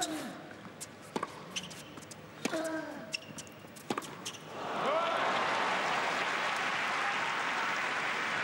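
Tennis racket hits and sharp shoe squeaks during a Nadal vs Federer semifinal in London, 2013, then a steady wash of polite crowd applause that swells and holds after the point.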